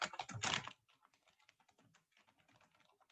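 A brief loud rustle, then a quick, light, steady patter of keystrokes on a computer keyboard as a message is typed, close and fairly quiet.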